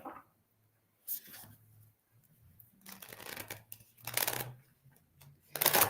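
Deck of cards being shuffled at close range, several soft riffling bursts separated by quiet gaps, fairly faint.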